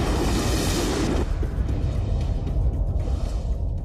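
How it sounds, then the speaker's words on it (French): A catastrophic explosion sound effect: a loud roaring blast that starts bright and full, then drops away into a deep rolling rumble that fades slowly. "Une explosion réellement catastrophique venant de l'intérieur."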